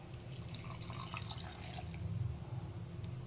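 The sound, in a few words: water being poured into mixer jar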